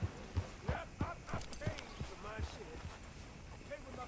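Horse hooves clip-clop in Red Dead Redemption 2, a series of irregular thuds at a walking pace under game audio and faint speech-like sounds.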